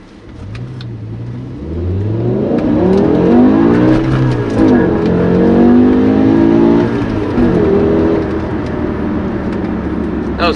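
A BMW M5 E60 with a six-speed manual accelerates hard at full power toward its 8250 rpm limit, heard from inside the car. The engine note climbs loudly and steadily in rising harmonics over about ten seconds, with no talking.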